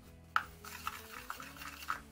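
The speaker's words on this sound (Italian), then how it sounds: "quindi un goccino d'acqua e poi vado a mescolare" Gold face mask powder stirred with a little water in a small bowl: a few light, close scraping clicks and taps of the mixing tool against the container, spaced irregularly over a quiet background.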